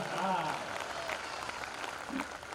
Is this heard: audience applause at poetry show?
yes